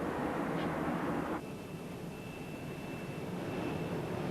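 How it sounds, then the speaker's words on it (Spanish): A military aircraft engine at Torrejón air base near Madrid, a steady, loud roar of the aircraft taking off or landing, with a faint high whine running through the middle and no voices. "En Torrejón, base cercana a Madrid, por ejemplo, un avión despega o aterriza cada 4 minutos."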